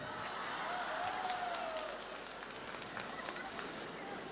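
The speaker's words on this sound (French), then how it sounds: "Sous vos applaudissements." A concert audience applauds at an Olympia show in 1999, a continuous even wash of clapping with a few louder bursts and a faint whistle early on.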